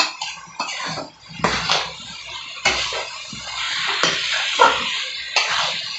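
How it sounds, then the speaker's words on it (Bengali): A metal spatula scrapes and clanks against a pan in uneven bursts while fried potatoes and green jackfruit are stir-fried in oil, with short quiet gaps between the strokes. "ভাজা আলু, এটা আমি এবার একটু কষিয়ে নেব"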